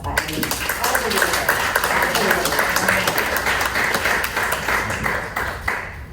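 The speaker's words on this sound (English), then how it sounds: "just round of applause" Audience applause at a Palm Beach gubernatorial forum, a steady wash of clapping lasting several seconds at even loudness, with some voices mixed into the crowd noise before it tapers at the end.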